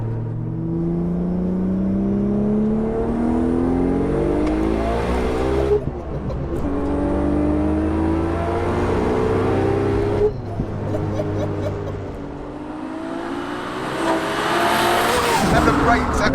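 Heavily modified 1093 bhp stroker B5 Audi RS4 accelerates hard from inside the car, engine note climbing in pitch then dropping sharply at each of two gear changes before pulling again, loud and close.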